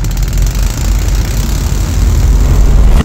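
3D printed 125cc four-stroke engine revving at high RPM, a loud, steady droning buzz that holds throughout without pause, close to the listener.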